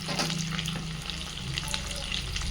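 Capsicum for chilli chicken fries in a pan with a steady close sizzle, broken by a few light stirring clicks.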